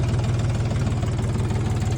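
Lovol 244 tractor engine idling steadily, a low, even diesel throb with a regular knocking pulse, close and continuous with no talk.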